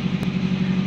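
A Nissan S13 240SX engine idles with a steady low rumble, close and continuous, with a brief broadband blip partway through.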